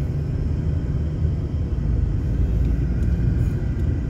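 A car on a Prince Edward Island road pulls away from a stop sign, its engine a steady, close, low rumble with road noise throughout.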